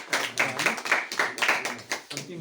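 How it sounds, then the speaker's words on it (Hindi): Scattered hand clapping from a small class audience thanking their teacher at the close of a church lesson, a few uneven bursts of claps close by for a couple of seconds. "हामी हाम्रो सरलाई ताली बजाएर धन्यवाद दिन्छ होइन।"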